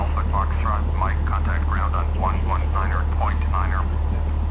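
Steady drone of a Cessna 172 engine in the FSX flight simulator just after touchdown, a constant low rumble running under continuous talk from a man.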